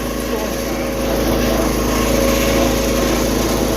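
Engine of a Cessna 210 running steadily at raised throttle, a loud continuous droning hum that holds close and even throughout with a slight swell after the first second.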